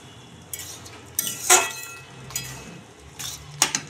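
Cabbage curry being poured out of a metal pan, heard as a few scattered clinks and scraping knocks of a utensil against metal and a dish, close and fairly quiet.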